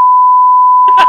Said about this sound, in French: je vais biper son nom.